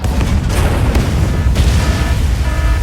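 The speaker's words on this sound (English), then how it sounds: "Explosion in the elevator's midsection." Explosion in the Mecha BREAK mech combat video game: a sustained, loud booming rumble with dense low-end roar and crackling debris running through the whole stretch.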